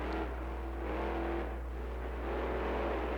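Monster truck Wild Side at a freestyle show in Snapdragon Stadium, San Diego, its engine droning and revving steadily with a low rumble, held up for the full stretch with slight surges in pitch.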